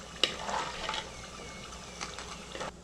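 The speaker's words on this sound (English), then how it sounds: "Let's fry the vadi. Just a shallow fry till they just get a nice color." Vadi shallow frying in hot oil produce a soft, close sizzle with a few light taps and stirring scrapes, fading toward the end.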